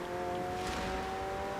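A McLaren's engine drones steadily as the car drives a mountain road in the Forza racing game, a continuous close hum with sustained tonal whine and no voices.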